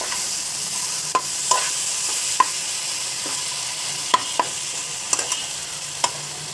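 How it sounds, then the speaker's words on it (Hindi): Tomato chilli chutney stirred in a pan, with a steady soft sizzle and a handful of scattered light scraping clicks from the spoon against the pan, alone and close. "थोड़ा सा इसको हिला दीजिए।"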